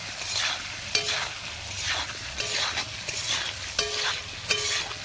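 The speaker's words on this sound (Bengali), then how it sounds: "ভালোভাবে মিশিয়ে নেব মশলাগুলো" Spiced potatoes frying in a pan with chili powder are stirred, a steady sizzle broken by repeated scraping strokes of the spatula against the pan, close and moderately loud.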